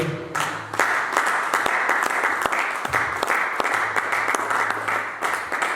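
A church congregation applauds in a dense, loud burst of clapping that carries on steadily throughout, with no voices over it.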